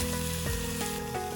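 Onion, garlic, curry leaves and cinnamon bark sizzle steadily in hot oil on a stove, a close, continuous frying hiss with no pauses and no voices.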